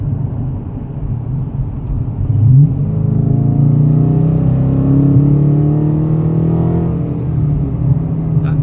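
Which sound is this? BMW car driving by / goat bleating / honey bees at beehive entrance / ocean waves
BMW car driving by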